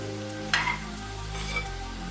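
Fried fish pieces being stirred into hot, sizzling masala for a Kerala-style fish pickle, a steady close frying hiss with a sharper scrape of the spoon and a later swell as the mix is turned.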